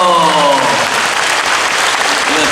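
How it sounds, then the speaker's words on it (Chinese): A church congregation at a poetry presentation and Sunday worship service breaks into a short, dense burst of applause that lasts a couple of seconds, with a brief tonal sound fading at the start. "拍手"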